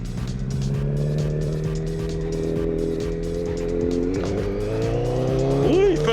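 A 2008 Honda Fireblade motorcycle pulls hard in first gear, its engine note rising steadily and loudly close by, with a brief tire-like squeal near the end.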